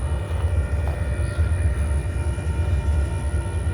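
An approaching train makes a steady low rumble with a faint high whine above it, heard alone and continuous throughout, with no horn or talk.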